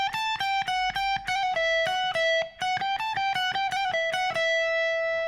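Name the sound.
electric guitar hammer-on pull-off phrase from a solo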